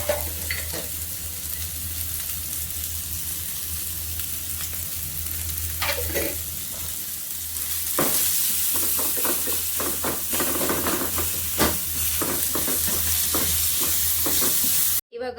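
Food frying with salt over a low flame, a steady close sizzle with a low hum beneath and repeated spatula scrapes and knocks, growing busier toward the end.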